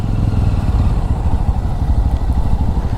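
A small road vehicle, larger than a motorbike but smaller than a car, gives a close, continuous rumbling engine drone with rattling clatter and no voices.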